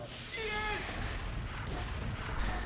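Gunfire in Team Fortress 2 rolls as a muffled, steady barrage of shots and booms under a dense game soundscape, with a brief tonal whine early on.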